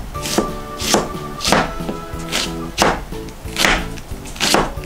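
A knife chops onion finely for keema curry, with steady rhythmic thuds on a board about every half second over background music.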